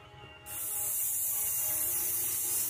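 An airbrush sprays pearlized copper paint onto a bluegill fishing lure, a steady close hiss that switches on abruptly and holds evenly to the end.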